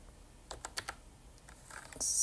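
Someone types on a computer keyboard in short bursts, making a handful of close, crisp key clicks in a quiet room before a louder hiss swells at the end.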